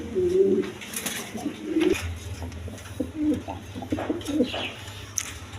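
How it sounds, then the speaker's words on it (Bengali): Pigeons coo repeatedly at a pigeon farm, low rolling calls close by and overlapping, with other birds chirping faintly in the background. "এখানে একটা নর কবুতর আছে"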